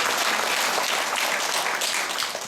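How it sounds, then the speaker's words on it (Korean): A church congregation at a Catholic charismatic prayer meeting bursts into warm, continuous applause, dense and evenly sustained with no talking over it. "하느님의 사랑을 받고 있는 여러분들 축하의 박수를 드립니다"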